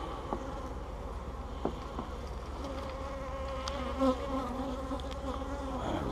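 Honey bees buzz steadily up close at an open hive during an inspection, a droning hum with individual bees passing by, plus a few faint knocks.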